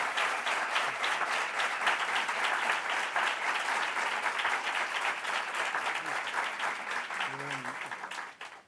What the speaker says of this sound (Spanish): le demos un fuerte aplauso